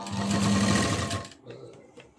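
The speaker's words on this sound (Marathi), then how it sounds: "अगदी काटोकाट अशी ही शिलाई घ्यायची" An electric sewing machine runs fast and loud, stitching piping onto a blouse neckline, then stops after about a second and a half, leaving a few faint clicks of handling.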